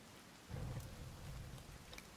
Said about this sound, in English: Oh, my fire is out. It's because of the rain?